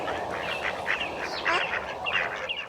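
Ducks on an urban farm quack in a busy, overlapping run of nasal calls, close and fairly loud, over soft outdoor background noise.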